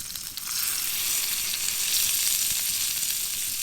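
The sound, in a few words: food sizzling in a pan in a hot tent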